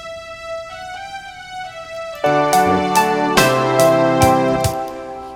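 Synthesized strings on a Yamaha MODX in a cover hold soft sustained chords that swell into a fuller, brighter layer with rhythmic accents, played alone without any voices.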